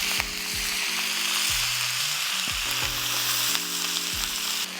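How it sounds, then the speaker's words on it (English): String beans and butter sizzle and fry in hot bacon fat as a steady, close crackle that runs throughout. Faint scrapes of stirring sit underneath it, and no one speaks. "take those beans that you already cleaned and cut up and put them right in that bacon fat"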